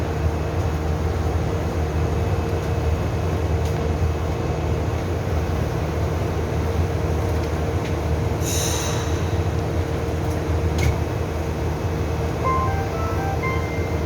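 A Busan Metro Line 4 train rumbles steadily throughout, a constant low roar of wheels on track with a brief high-pitched squeal near the middle.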